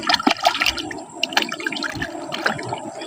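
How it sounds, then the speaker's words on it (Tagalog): Water running from a tap while hands are washed, with a close, splashy gushing stream and small irregular spatters over about three seconds. "Saka maghugas ng kamay mga idol."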